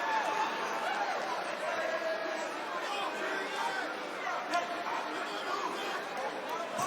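Milwaukee, Wisconsin arena crowd at a UFC fight between Jose Aldo and Jeremy Stephens, a dense steady babble of chatter and cheering that fills the whole stretch, with a commentator's voice talking over it.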